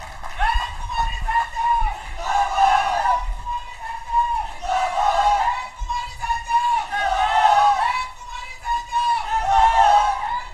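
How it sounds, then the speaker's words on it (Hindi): Crowd at a Congress party rally in Kurukshetra, Haryana, cheering and calling out in loud surges of massed voices, rising and falling in several waves across the whole stretch with only short dips between them. "जोरदार ताली से स्वागत करें आदरणीय बहन कुमारी शैलजा जी।"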